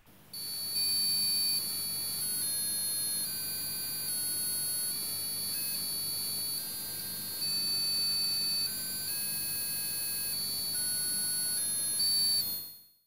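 An Arduino-driven passive buzzer plays a melody of shrill, tonal electronic beeps, stepping between pitches in a steady sequence for about twelve seconds, loud and close with no talk.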